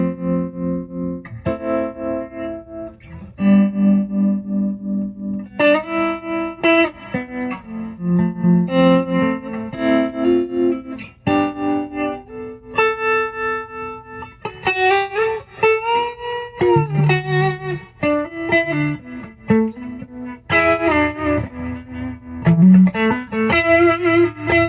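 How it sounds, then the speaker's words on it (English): Overdriven electric guitar through a Victory VC35 Copper Deluxe amp with pulsing tube-biased tremolo and a reverb wash, chords and riffs played continuously, loud and close. "tube biased tremolo and reverb."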